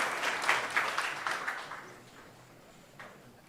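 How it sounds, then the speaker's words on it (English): Town hall audience in Springfield, Ohio applauding, a burst of clapping that is fairly loud at first, then thins and fades to scattered claps within a few seconds. "Give this man a round of applause for his love of the history of this city."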